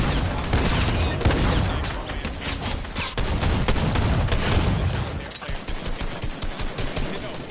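Rapid infantry rifle gunfire crackles in a Fortnite World Cup match, dense overlapping volleys of shots that thin into distinct separate cracks toward the end.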